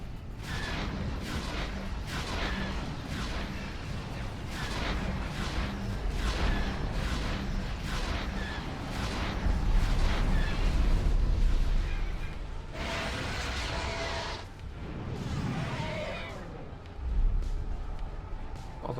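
Spaceship weapons fire in the Star Wars Interworlds space game, a rapid series of booming blasts and bursts in a fairly regular rhythm, loud and close, running almost continuously with a few heavier impacts near the end.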